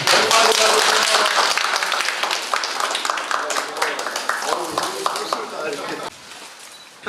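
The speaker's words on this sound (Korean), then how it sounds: "김만주 시장님 큰 박수로 환영해 주십니다." Audience at a community town hall gathering in Bucheon applauding to welcome the city mayor, loud dense clapping that gradually thins with voices mixed in, then drops away to a quieter room near the end.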